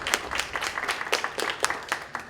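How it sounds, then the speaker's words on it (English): A small audience applauds professors at a community planning studio event, the scattered, distinct hand claps fairly quiet and somewhat distant. "Let's give a round of applause for our professors too."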